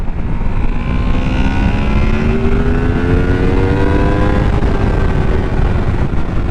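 Honda VFR800 touring motorcycle engine revving and accelerating from a riding position, a loud steady roar with rising pitch that climbs through the gears, heavy wind noise underneath and no talking.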